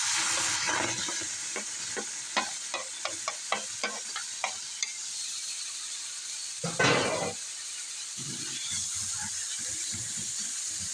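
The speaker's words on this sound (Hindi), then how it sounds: "अब इसको मैश कर रही हूँ इसके अंदर।" Peeled tomatoes and dry-roasted garlic are mashed in a pan, a soft sizzle under a series of distinct pressing thumps and scrapes, then a brief louder hiss and squelchy mashing near the end.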